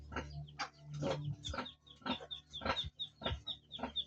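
Pigs on a farm in Ternate, Cavite, including a large sow, give repeated short grunts and squeals at a steady rhythm, close and clearly audible, mixed with fowl-like clucking tones.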